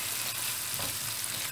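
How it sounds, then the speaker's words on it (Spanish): Garlic and onion fry in a pan where meat was cooked with pepper, a close, continuous crackling sizzle with no voices over it. "echarle el ajito y la cebolla. Y ahora todo esto que está casi como pegadito se va a ir despegando cuando se vaya haciendo un poquito la cebolla."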